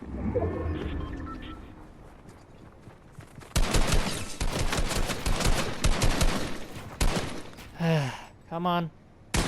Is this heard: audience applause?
no